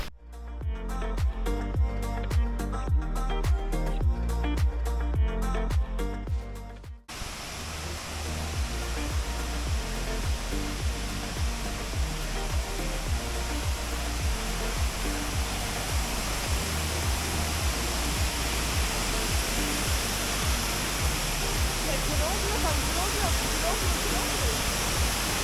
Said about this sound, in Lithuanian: Nuėjom iki vieno krioklio, gražus labai